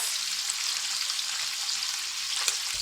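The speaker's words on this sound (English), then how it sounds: "the bacon grease is splattering and while it's frying" Liver sizzles and crackles steadily in hot bacon grease in a pan, close up, with occasional pops and splatters and no talking.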